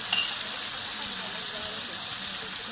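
Chicken fry curry sizzles in a pan as it is stirred, a steady close hiss of frying that runs unbroken throughout with no other sound on top.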